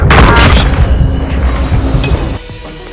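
A dropped bomb explodes in a video game, a loud deep boom that rolls on and slowly fades over a few seconds.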